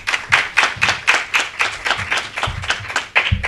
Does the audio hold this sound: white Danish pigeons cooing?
no